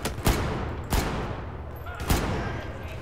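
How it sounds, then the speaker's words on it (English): Gunfire in the Battlefield 4 campaign aboard the USS Valkyrie: three loud shots or short bursts spaced about a second apart, each cutting through constant rumbling battle noise. "Apparently I can shoot through that barrel"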